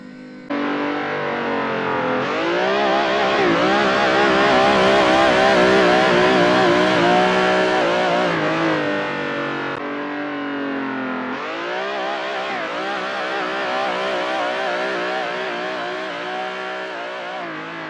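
Car engine revving hard during a drift with the throttle applied, a loud, sustained, harsh engine roar that climbs in pitch, dips around the middle and surges again, with no talk.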